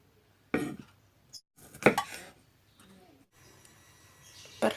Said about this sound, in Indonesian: bawang merah, bawang putih diiris